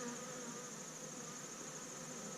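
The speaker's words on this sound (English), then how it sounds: "Plenty of bees, plenty of activity" Honey bees swarm around an active beehive during a routine inspection, a dense steady buzzing hum that fills the clip at close range, with no talking.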